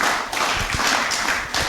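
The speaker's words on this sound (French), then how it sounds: "Applaudissons pour la parole de Dieu." A church congregation breaks into applause. Several loud, uneven bursts of close-up clapping rise and fall over under two seconds.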